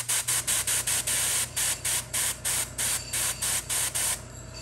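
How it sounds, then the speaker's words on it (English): Airbrush spraying paint onto a miniature figure in short repeated hissing bursts, about a dozen even pulses of spray with brief gaps, close and steady over a low background hum. "so we can kind of get a good feel for the airbrush"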